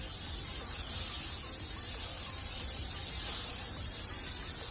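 A spray bottle hisses steadily as an offset smoker's grill grate, heated to 400 degrees, is sprayed down, a continuous soft misting noise with no voices.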